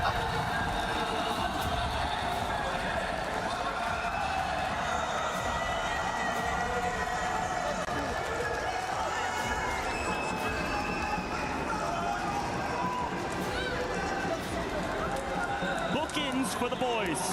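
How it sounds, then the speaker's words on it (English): A crowd at an esports Warzone event roars and cheers continuously, a dense, loud wash of voices sustained throughout, with commentators talking over it. "you can hear the crowd"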